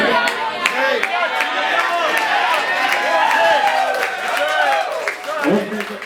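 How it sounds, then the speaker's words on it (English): An audience at a party claps and cheers in a steady, lively burst, close and loud, with overlapping voices and chatter woven through the applause. "I want to thank everybody for the applause"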